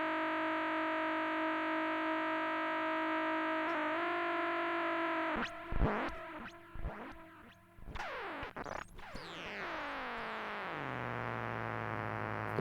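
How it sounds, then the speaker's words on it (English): Harsh synth tone tamed by a low-pass filter, with a delay effect added; sustained harmonic notes shift in pitch, then sweep and stutter with repeating echoes before settling into a steady held tone. "Bit of delay."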